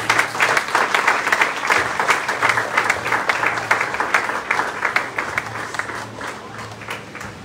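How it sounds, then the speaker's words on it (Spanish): A church congregation claps loudly during a worship service, the applause rising in uneven bursts with some individual claps standing out, gradually softening toward the end. "Dile un fuerte aplauso al Rey de Reyes."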